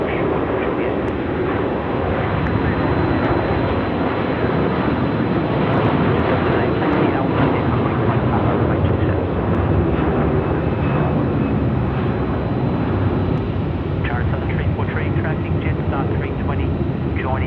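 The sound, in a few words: China Southern airliner taxiing at Melbourne airport at night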